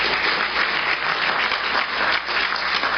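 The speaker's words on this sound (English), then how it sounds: "let's give Randy another round of applause" An audience at a science communication seminar applauds a speaker, a short burst of dense, even clapping heard close and fairly loud throughout.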